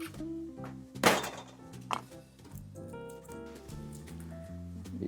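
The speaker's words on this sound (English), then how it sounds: "just cut the top only, and then just bang it. The skin will come loose" Two sharp knocks, one loud and one softer, a second apart, as a garlic clove is banged on a board to loosen its skin, over steady music.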